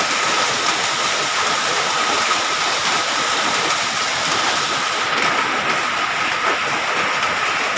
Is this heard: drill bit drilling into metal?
no